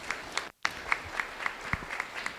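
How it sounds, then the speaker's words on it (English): Applause from an audience at a high school basketball event, fairly faint and spread across the clip with regular claps. There is a brief dropout near the start. "Let's give one more round of applause for this outstanding group of young men and young women."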